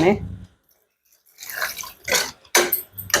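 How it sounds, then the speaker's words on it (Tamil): Water is poured into a broccoli and capsicum gravy in a home kitchen, with short, close splashing bursts after a brief pause. "அதுக்காக கொஞ்சம் தண்ணி எக்ஸ்ட்ராவே ஊற்றிக்கிறேன்"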